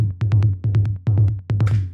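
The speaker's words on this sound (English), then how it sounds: "The bass line was made with the DS tom." A synth bass line made with the Ableton DS Tom drum synth plays a loud, punchy, syncopated pattern of short, deep tom-like hits with clicky attacks, heard alone.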